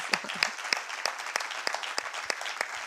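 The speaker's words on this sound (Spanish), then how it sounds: "un aplauso para Daniel Meca" Applause from a small audience at a casual book talk, a few distinct claps in an uneven rhythm, close and fairly loud, lasting just under three seconds.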